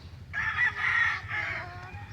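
A rooster crows loudly nearby, one long drawn-out call lasting about a second and a half over a low background rumble.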